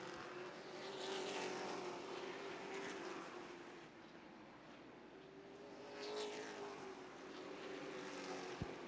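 Race cars circling the track at Berlin Raceway in a CRA All-Stars Tour 100 late-model event, a steady engine roar rising and fading as the field passes at a distance, with no voices.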